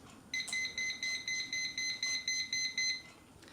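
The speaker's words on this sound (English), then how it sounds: "once it touches the metal prongs it will start to beep and vibrate." A liquid level indicator hooked on a cup beeps as the liquid reaches its metal prongs, a rapid run of about ten even electronic pulses, close and clear, which then stops.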